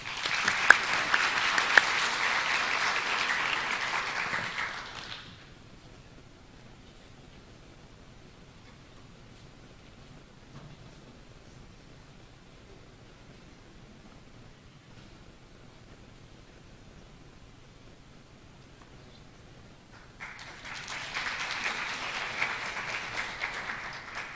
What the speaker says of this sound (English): So if you will, give Maddie a round of applause